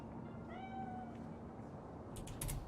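A cat meows in the video game Cyberpunk, set in Night City: one faint, drawn-out, rising-and-falling mew over a soft ambient backdrop, followed by a few quiet clicks.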